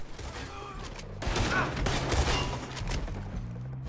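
A character in Red Dead Redemption 2 emptying his gun in a rapid burst of close gunfire that swells in the middle and fades, with speech heard around it.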